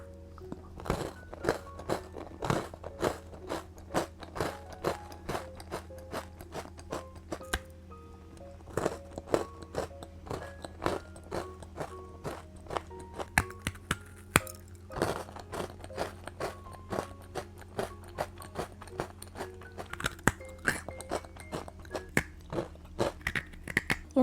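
Close, steady crunchy bites and moist chewing of protein scones, each bite a crisp click in a quick repeating rhythm, with no talking.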